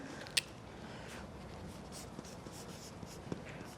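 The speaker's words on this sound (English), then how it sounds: "I'm gonna write those words under this label." A pen writing words on a cardboard label, with close, quiet scratching strokes, a sharp tap near the start and faint scraping throughout; no talking.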